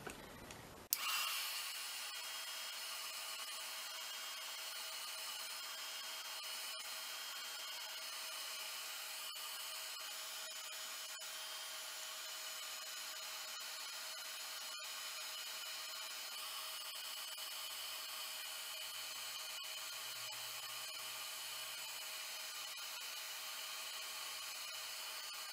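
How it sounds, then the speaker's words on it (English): A heat gun blows hot air onto a shrink plastic charm, starting with a click and then a steady close whooshing whine that holds unchanged for the whole stretch, with no talking. "Now we shall heat this one up, shrink this one down."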